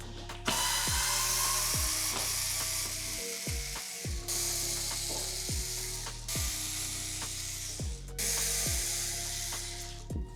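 A screwdriver or drill backs screws out of a sealed wooden crate in a sequence of whirring bursts, each ending in a sharp downward winding whine, repeated several times up close with a hissing, rattling background.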